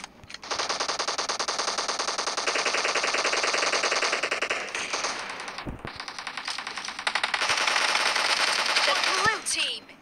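Rapid automatic gunfire from a mobile battle royale game, BGMI, rattling loud and nearly continuous for about ten seconds with a brief pause midway and a short whistling sweep near the end.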